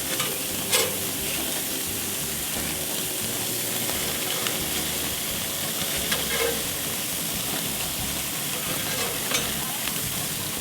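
Onions sizzling and frying steadily on a greasy grill, a loud continuous hiss with occasional scraping, close up, no one talking.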